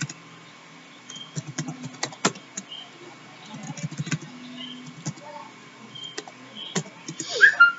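Quiet, close clicking of computer keyboard keys while entering text into an Excel spreadsheet cell, uneven taps in short bursts with faint background noise.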